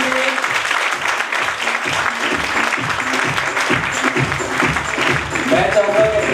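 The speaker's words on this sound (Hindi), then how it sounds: "जोरदार ताली।" An audience in an aromatherapy skincare class in Hisar, Haryana claps loudly and continuously, a dense burst of applause with voices talking and cheering over it throughout.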